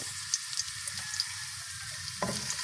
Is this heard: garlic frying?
yes